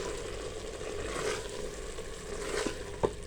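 Ground coriander and spices frying in ghee with minced meat for qeema aloo matar, a steady close sizzle with a few soft stirring scrapes and no talk.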